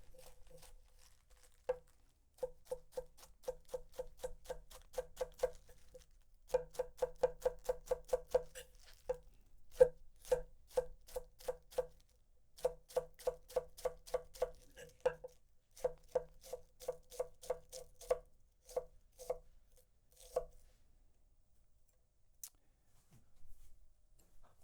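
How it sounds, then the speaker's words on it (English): A Hatsukokoro Kumokage Honesuki knife rock-chopping on a cutting board makes long runs of quick, evenly spaced taps in steady bursts with short pauses between them. The taps are close, crisp and quiet, with no talk over them. "A little rock chop."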